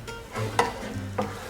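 Cooked rice stirred with a wooden spoon in a non-stick pan on medium heat: two soft scraping strokes over a faint background sizzle.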